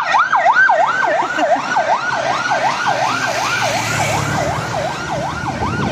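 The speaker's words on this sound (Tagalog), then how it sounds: "Yan guys, may wangwang." An emergency vehicle siren wails in fast, regular rising and falling sweeps as it passes close by on a road. It is loud and clear over faint traffic noise and fades a little toward the end.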